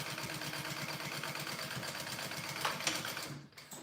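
A sewing machine runs steadily while top stitching foam onto the front piece of a Dragon Sling bag, with a fast, even mechanical rhythm close by that breaks off briefly near the end.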